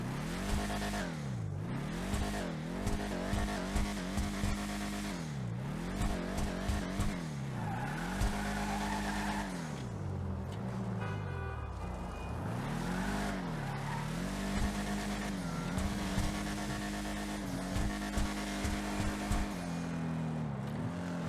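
Vapid Ellie muscle car in GTA Online revving repeatedly, its engine note rising and falling in loud surges with a rolling backfire crackle, close and continuous with no talking.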